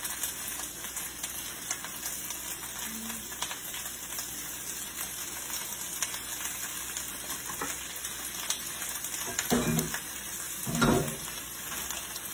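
Food sizzles and fries steadily in a hot pan during Asian fusion cooking, a dense continuous crackle with a couple of louder stirring bumps near the end.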